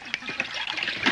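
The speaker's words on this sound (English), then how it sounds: "Pour in about an inch of water" Water pours into a cooking pot in a kitchen, a short burst of splashing and trickling that comes and goes in a few surges, close and fairly clear.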